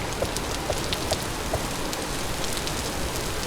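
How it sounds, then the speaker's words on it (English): Heavy rain falling steadily in the survival game Vintage Story, a dense continuous hiss with scattered droplet ticks, evenly loud throughout and with no voices. "Man, it is raining a lot."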